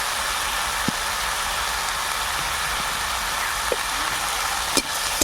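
Koi fish curry with chili powder in a pan, a loud continuous sizzling hiss with a few soft knocks as it is stirred.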